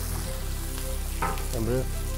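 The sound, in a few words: onions frying in a pot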